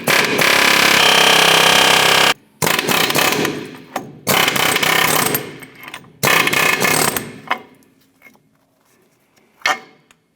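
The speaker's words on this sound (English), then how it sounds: "We're going to go ahead and use our air chisel to try and work these rivets off." An air chisel hammers at the ball joint rivets on a Chevy S10 control arm, giving loud rapid pneumatic chattering in several bursts of about two seconds each with short pauses, then trailing off into quiet with a final brief burst.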